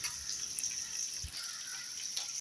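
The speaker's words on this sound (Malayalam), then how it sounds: "വെള്ളം ഒഴിച്ചു കൊടുക്കാം." Water pours into a cooking pot of green chillies for a Kerala-style dish, a soft continuous splashing hiss that carries on steadily for a couple of seconds without any talk.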